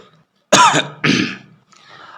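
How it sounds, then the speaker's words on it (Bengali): A person coughs outside the room, two harsh coughs in quick succession followed by a fainter throat-clearing rasp, heard alone without speech. "বাইরে কাশির শব্দ হলো।"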